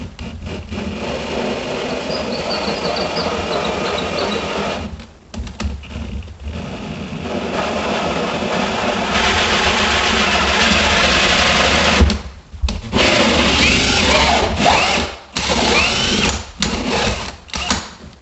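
A power drill in clutch mode, set to a mid-range speed, boring through a wall with a pilot point bit: bursts of loud whirring and grinding that stop and restart, with short pauses in between.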